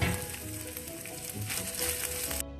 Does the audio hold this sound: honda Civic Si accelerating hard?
no